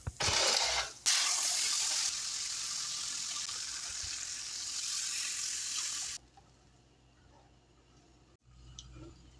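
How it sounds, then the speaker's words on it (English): Water is poured into a pan of browned Rice-a-Roni, a steady loud gushing splash that runs for several seconds before cutting off abruptly, leaving quiet kitchen sounds. "I will add the water and seasonings."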